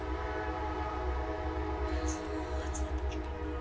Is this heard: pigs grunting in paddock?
no